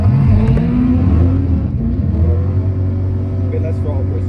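A modified Ford Mustang Foxbody revs loudly at a drag strip, its engine note rising and falling in a steady rumble close by, with voices talking faintly underneath.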